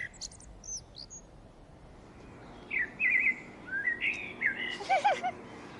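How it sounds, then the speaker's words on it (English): A blackbird sings its fluting, warbling phrases in the dawn chorus, several clear song bursts ringing out over a quiet background after faint higher chirps from other birds. "That's a blackbird."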